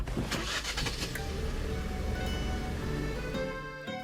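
Fiat Tipo Cross starting by push button with the wheels slightly turned: a whirring electric motor as the steering lock releases, then the engine cranking and catching into a steady idle, moderately quiet and close.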